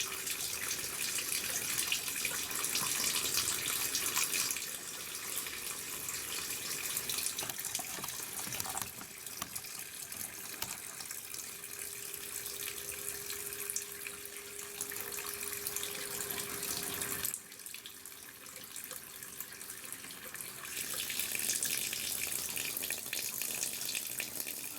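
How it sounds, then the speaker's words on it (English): Water pumped into a container for an off-grid gravity-fed laundry system, a steady broadband rush and gush that runs continuously, with a brief dip partway through before the flow resumes. "we're going to start pumping some water into the system here"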